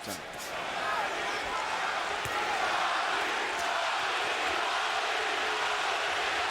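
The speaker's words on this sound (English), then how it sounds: "Crowd begins to chant, Gatti, Gatti," A boxing arena crowd at the Arturo Gatti vs Micky Ward fight swells into a dense, continuous roar of chanting, with a commentator's voice talking over it.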